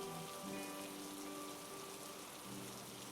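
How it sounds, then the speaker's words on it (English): Steady rain pours down onto a roof at night, a soft continuous hiss of droplets with faint tonal hum running underneath, moderately quiet and unbroken throughout. "The rain began to pour, and listening to the droplets hit the roof"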